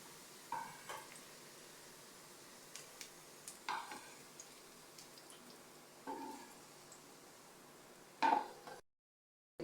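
Onions fry in oil in a pan, a faint steady sizzle broken by several short clattering bursts of a spatula stirring, with a brief silence near the end.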